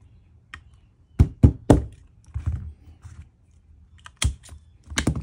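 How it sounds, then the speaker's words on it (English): A ZEV OZ9 combat pistol being taken down, its takedown pin popped out with a series of sharp metallic clicks and knocks, close and clear, with no talking. "And you pop that pin out."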